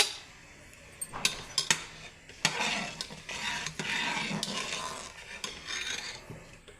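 Garlic, chili and chopped coriander being stirred and mixed together in a bowl, with a steady scraping, rasping texture and a few sharp clinks of the utensil against the bowl, close up and without talk.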